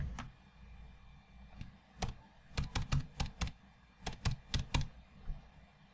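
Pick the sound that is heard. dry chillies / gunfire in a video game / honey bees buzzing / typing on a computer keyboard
typing on a computer keyboard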